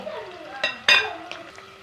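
Green chillies and curry leaves sautéing in a pan, a faint sizzle under a few sharp metallic stirring clinks from a ladle against the pan, close by.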